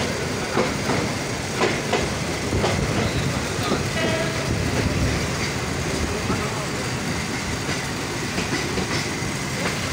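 Dolonchapa Express, a metre-gauge passenger train, rolls steadily into Rangpur with continuous rumble and wheel clatter heard from on board, under a busy wash of noise and occasional faint voices.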